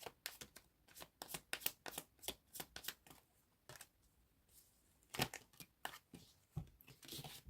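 A deck of tarot cards is shuffled up close, with rapid crisp riffles and flutters in irregular bursts, quiet and alone.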